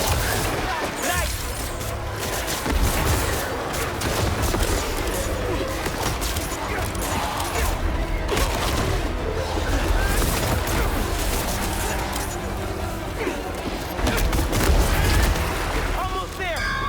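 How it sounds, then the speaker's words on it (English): Enemy gunfire in Marvel's Spider-Man 2 gameplay rattles in dense bursts amid booms, crashes and a game soundtrack, with characters talking over the loud, nonstop action. "They're shooting stuff at us."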